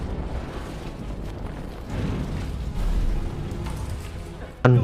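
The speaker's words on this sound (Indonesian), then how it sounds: "Tiba-tiba terjadi ledakan" A deep, rumbling blast of a building explosion in the disaster film The Tower (2012) swells over a dense roar of noise, building in intensity before a sharp, loud burst near the end.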